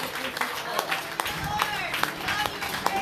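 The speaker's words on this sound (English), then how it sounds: "The Lord a loud clap of thanksgiving." Congregation at a church service on the beach clapping in thanksgiving, fairly faint scattered applause with sharp claps heard over murmuring voices.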